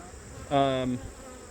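Crowded honey bees at a hive preparing to swarm hum softly throughout, with one louder, pitched buzz swelling close by for about half a second before fading back into the quiet drone.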